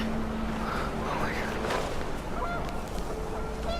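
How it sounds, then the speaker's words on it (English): Panicked geese honking in wind in the game What Remains of Edith Finch, several wavering calls rising over a steady windy, watery rumble, with a voice speaking faintly underneath. "The wind picked up, and panicked geese appeared and quickly went."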